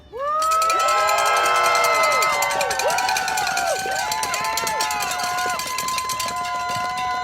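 A crowd cheers loudly for Karen at a gathering, with high whoops and shouts rising over a dense, sustained roar that holds steady for several seconds alongside scattered clapping.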